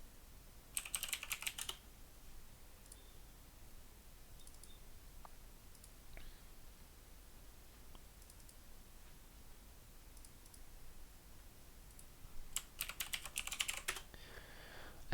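Keys on a computer keyboard tapped out in two quick bursts, one near the start and one near the end, with quiet room hiss and a few isolated clicks between; no one speaks.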